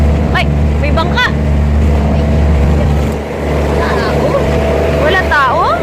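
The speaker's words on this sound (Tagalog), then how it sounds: "Ay, may bangka!" A motorboat runs past a cove on the Zambales coast in the Philippines, its loud steady engine drone dominating with wind buffeting, while voices call out briefly over it.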